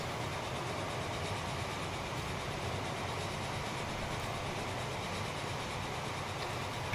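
A train rolls along upgraded track in the railway-building game Transport Fever 2, giving a steady, even rumble with a faint rhythmic clatter throughout, moderately quiet and with no voices over it.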